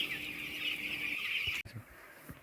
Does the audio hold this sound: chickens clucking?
yes